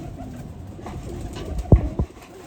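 A domestic pigeon kept for pigeon-flying competitions gives two short, low coos close to the microphone over a soft background hiss.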